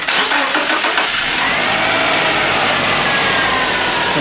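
A Subaru Impreza 2.0L EJ20 engine fires up just after an oil change, a short cranking burst settling straight into a loud, steady idle close by.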